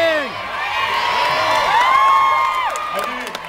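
A large crowd at a Nerdfighter meet-up at VidCon screams and cheers loudly and continuously, with many overlapping high shrieks and whoops that rise and fall over a few seconds.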